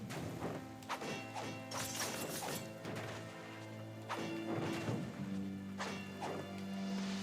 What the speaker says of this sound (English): Big explosion, get out.